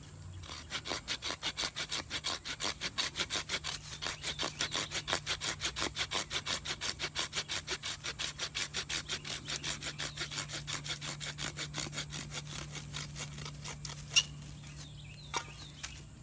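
Steady back-and-forth rasping as a socket is carved into a juniper wood hearth board for a bow drill, a fast even rhythm of close scraping strokes over about fifteen seconds, easing off near the end with a couple of small knocks.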